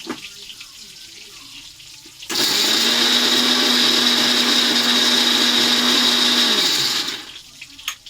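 A kitchen blender grinds coconut and pointed gourd with water into a paste. It roars loud and steady for about five seconds, close up, then winds down into quiet.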